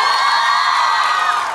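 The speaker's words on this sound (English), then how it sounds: "can we give a huge round of applause to the best class teacher ever" At a graduation ceremony, the audience gives a class teacher loud, continuous cheering and shouting with applause, with many high voices in a dense, steady roar.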